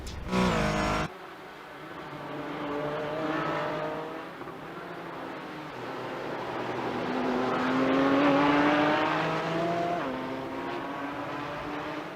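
A Porsche 718 GT4 race car accelerating in a sim racing game at Auto Club Speedway, engine note climbing through gears with rising whine, steady and close, no voices.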